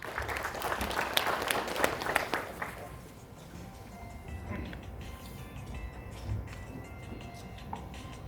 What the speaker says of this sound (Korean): 큰 박수로 맞아주십시오.